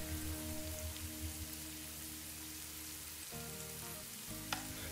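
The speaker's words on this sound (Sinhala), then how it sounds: "දැන් මේ එළවලු ටික හොඳින් කලවම් කරලා හොඳට තෙම්පරාදු කරගන්න" Vegetables seasoned with pepper, salt and chili flakes sauté in a pan for white sauce pasta, giving a steady close sizzle and crackle that runs throughout with a brief clink near the end.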